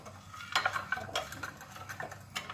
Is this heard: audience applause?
no